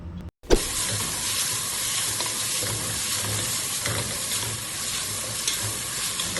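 Biryani masala with garam masala and a little curd sizzles and fries in a pan while being stirred, a continuous close hiss after a brief bump at the start.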